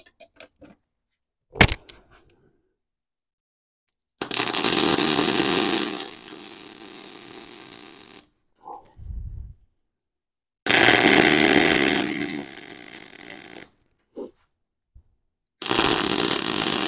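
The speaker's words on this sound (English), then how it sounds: "I'll go ahead and put a final weld through this thing here." Final welding pass on a Swag Offroad tubing roller mod built around a Harbor Freight tubing roller: several multi-second bursts of steady, harsh crackling buzz, loud and close, separated by quiet gaps with small clanks.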